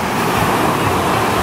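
Surf rolling in at the sea in Hawaii, a steady broadband wash of breaking waves with some wind rumble, fairly loud and continuous with no talk over it.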